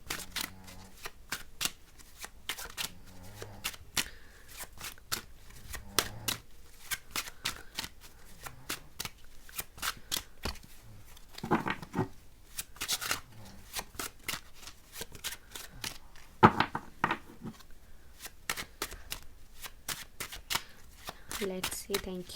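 Tarot cards shuffled by hand in a run of rapid riffling bursts, each a quick crisp flutter, close and fairly quiet, repeating for about twenty seconds with short pauses between.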